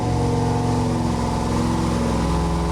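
A 3000 HP diesel engine runs hard on a test stand, a loud, dense, steady mechanical roar with strong low harmonics and a rapid firing pulse, close and uninterrupted.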